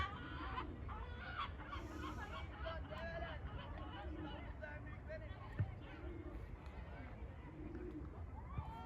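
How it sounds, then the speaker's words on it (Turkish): Chickens cluck and a rooster calls in repeated short bursts outdoors where pigeons are being flown, with people talking over the fowl throughout. "Buralarda çok kuş pırıltı oluyor"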